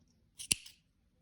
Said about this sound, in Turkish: Ve kesiyorum.